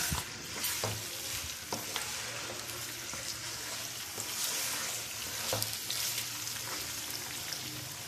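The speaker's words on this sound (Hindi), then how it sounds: "और अब हम इसको अदरक लहसुन की पेस्ट में अच्छे से भूनेंगे" Mutton sizzles and crackles steadily as it fries in ginger garlic paste in a hot pan, with occasional scraping and stirring sounds close by.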